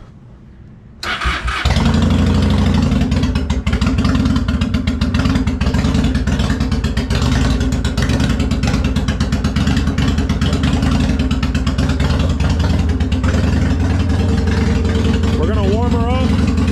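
A Honda Shadow 750 shaft-drive motorcycle starts with the choke pulled slightly out, then settles into a loud, steady, close-up idle as it warms, with a short rising rev near the end.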